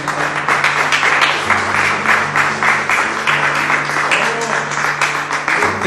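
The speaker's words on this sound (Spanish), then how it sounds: "Dar un aplauso al Señor" A church congregation breaks into dense, sustained applause and some cheering, with steady low instrumental music running underneath throughout.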